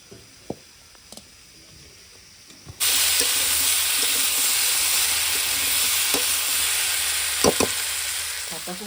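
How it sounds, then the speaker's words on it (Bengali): Raw pumpkin sautéing in a hot pan: a few faint clinks at first, then a sudden loud hiss as it hits the oil, settling into a steady sizzle with occasional stirring knocks. "কাঁচা কুমড়ো খুব ভালো করে কষাচ্ছি"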